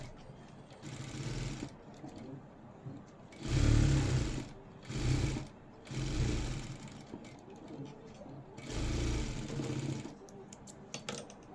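A sewing machine stitches a blouse in several bursts of rapid mechanical whirring, separated by short pauses, recorded close and loud.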